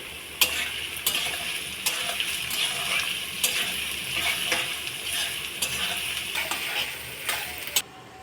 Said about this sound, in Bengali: এবার আমি এখানে অল্প একটু লবণ দিয়ে সবজিটাকে ভাজা ভাজা করে নেব।